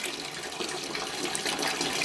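Second runnings of a cream ale mash pour out as a steady splashing stream of water, constant and fairly quiet, with no talking.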